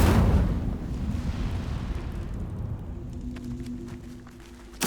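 The Incendio fire spell bursts in Hogwarts Legacy with a loud whooshing blast that slowly fades into a rumbling roar, ending in a sharp click.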